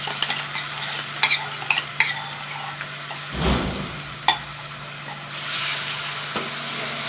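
Tomato paste sizzling in a pan of frying ginger and garlic for a chicken chana dish, with a steady hiss broken by spoon scrapes and clacks as it is stirred, plus a swell of louder frying near the end.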